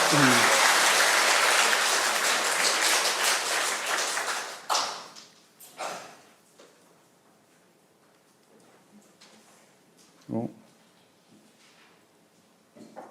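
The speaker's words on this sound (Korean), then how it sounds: "박수로 맞이하겠습니다." Applause at a Franciscan spirituality academic seminar greeting a priest, a dense burst of clapping for about four seconds that fades out, followed by quiet room sounds and a few isolated knocks.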